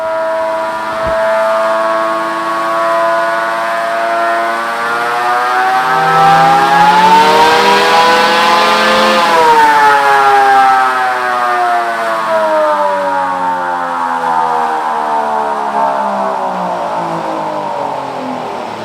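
A 2024 Chevrolet L5P Duramax diesel truck engine, tuned to about 600 rear-wheel horsepower, roars loudly and continuously on a dyno, its pitch climbing steadily, peaking, then easing back down while still running hard.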